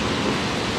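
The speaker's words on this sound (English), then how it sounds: "Look at the waterfall, guys." Duden Waterfalls in Antalya, Turkey, a waterfall reached through tunnels, roaring as a steady, dense broadband wash of falling water with no breaks, close and loud.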